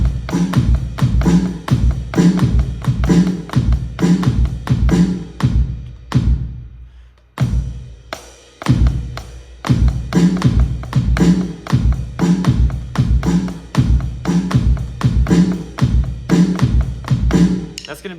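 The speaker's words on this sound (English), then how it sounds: "And the bass drum pattern is gonna sound like this." A steady bass drum groove from a worship-song drum tutorial, deep repeated kicks in a driving rhythm, close and loud, with a short break midway before the pattern resumes.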